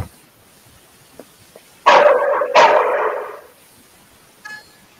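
A working dog in training lets out two loud, close barks in quick succession on cue, followed by a brief faint yip, with near silence around them.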